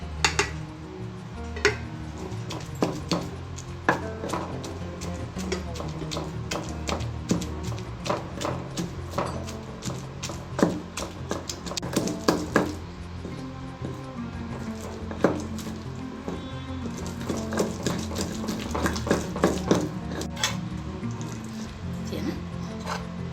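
Tomato pieces ground with garlic and tamarind in a stone mortar for bottle gourd roti chutney, heard as a long run of irregular knocks, clacks and wet squishing strokes, close and moderately quiet, with occasional speech nearby.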